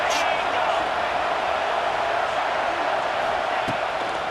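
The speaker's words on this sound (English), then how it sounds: "3rd down play in the red zone, and this crowd is at fever pitch." Stadium crowd roaring in the College Football 26 video game during a Rutgers vs Ohio State third-down red zone play, a loud sustained wall of cheering under a commentator's talk.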